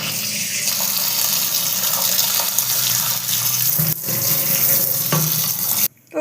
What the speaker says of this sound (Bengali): তো আমরা চাউমিনটা ভালো করে ধুয়ে নেব।